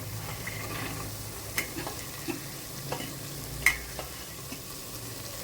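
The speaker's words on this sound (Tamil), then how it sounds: "இதையும் நல்லா வதக்கிக்குவோம்." Chopped vegetables for a veg biryani are stirred in hot oil in a pan after the onions and tomatoes have softened. There is a steady low sizzle, with scattered scraping stir clicks and one sharper knock.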